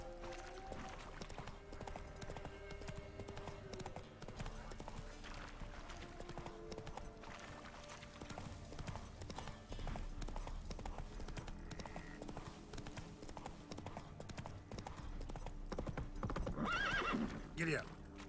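Horse galloping in the video game The Witcher: Wild Hunt, rapid clip-clop hooves with an occasional whinny, steady and moderately loud beneath game sounds and a talking voice.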